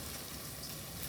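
Tomato paste frying in a pan for macaroni, a steady faint hiss and sizzle with no talking over it.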